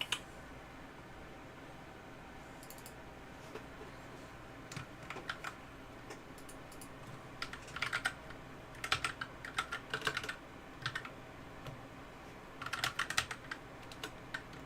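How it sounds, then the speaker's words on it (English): Keys clacking on an old Red Dragon computer keyboard, quiet at first and then coming in clustered bursts of rapid strokes over a soft steady background hiss, with no talking. "Don't know if you can hear the keyboard keys and everything"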